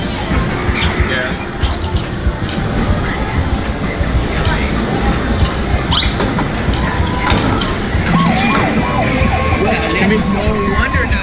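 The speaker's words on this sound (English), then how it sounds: "No wonder the siren is blaring." An arcade crane game machine blares a continuous siren amid the steady din of a busy arcade, with voices mixed in throughout.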